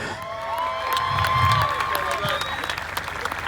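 A crowd at the opening ceremony of a Highland Games at Matlock Farm Park applauds and cheers as a woman athlete is introduced, with steady clapping and whistles and whoops rising over it.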